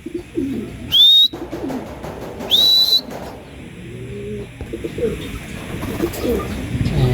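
Racing pigeons arriving at a home loft after a sprint race, with two loud, sharp rising whistle-like calls a second or so apart over a busy outdoor background of low bird sounds and murmur.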